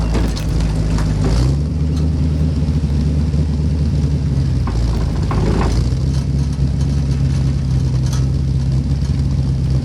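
A restored 1953 Chevrolet 3100 five-window pickup running loud and close, its engine holding a steady low rumble with small shifts in pitch as it settles.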